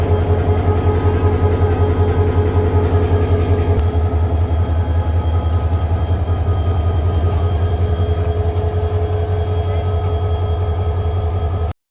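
A train idles at Laksam junction in Bangladesh, its loud steady engine drone and low hum holding throughout with a faint metallic undertone and no speech.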